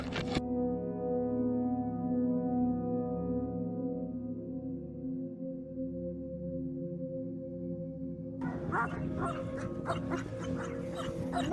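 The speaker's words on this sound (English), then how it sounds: "a bone-chilling bark that confirmed my fears that the correctional dog, affectionately known as Rage, would live up to his namesake" A big correctional prison dog barks and growls close by, a deep harmonic rumbling snarl sustained for several seconds before breaking into a burst of loud, harsh barking at the end.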